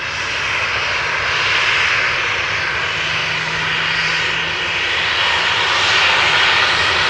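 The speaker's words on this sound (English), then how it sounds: "This is a Boeing 737-900 going to Brussels from KLM." A KLM Boeing 737-900 jet airliner rolls for takeoff at Amsterdam Schiphol, a loud, continuous broadband engine roar with a faint steady whine underneath, rising a little toward the end, with no one talking.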